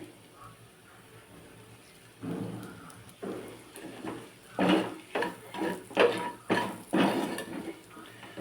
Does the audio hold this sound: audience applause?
no